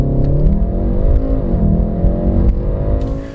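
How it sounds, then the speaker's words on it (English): A Volkswagen Golf R with a DSG gearbox launches hard under launch control, its engine roaring loud and close with a steady, rising pitch through the run. "release the brake and the car will launch"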